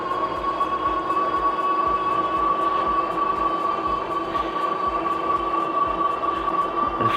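Emojo Bison Pro electric bike with a 700-watt motor climbing a slight hill: a steady motor whine with a strong rumbling, clattering ride noise underneath, continuous and close throughout.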